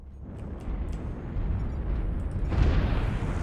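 Artillery strike explosions from the MechWarrior Online game, with an Arrow IV-equipped Catapult CPLT-C3(S) mech, rumbling as a continuous low booming roar that swells and intensifies near the end, loud and without speech.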